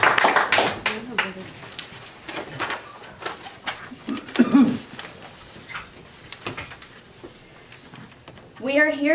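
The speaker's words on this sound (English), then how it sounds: "Can we applaud?" Applause from an audience at a public library board meeting, a burst of clapping at the start that thins to scattered claps mixed with talking voices.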